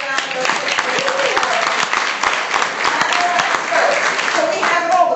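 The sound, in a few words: audience applause for a graduate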